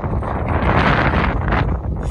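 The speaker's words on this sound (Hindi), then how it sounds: "बहुत प्यारी हवा चल रही है" Strong wind roars steadily across an open desert, buffeting the microphone with loud continuous rumble for the whole stretch.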